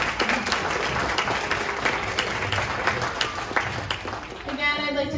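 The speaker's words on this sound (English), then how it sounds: "Let's give these singers a round of applause." An audience at a second-grade school showcase claps for the young singers, a busy wash of applause that holds steady throughout, with a few voices rising briefly near the end.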